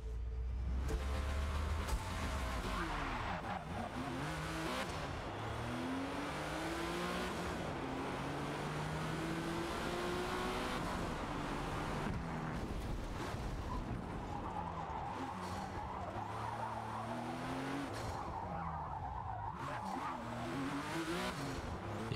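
A supercar howls around the full 24-hour layout of the Nürburgring in Forza Motorsport, engine revving up and down through gear changes with rising and falling pitch sweeps, close and loud for the whole stretch with no talk.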